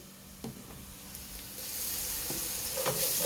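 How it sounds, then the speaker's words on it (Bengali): Garden onions and green chilies sizzle in hot oil in a pan, a steady crackling fry that grows slightly louder, with a few soft clicks of stirring and no talking. "কাঁচামরিচ পেঁয়াজটা ভাজা হয়ে গেছে"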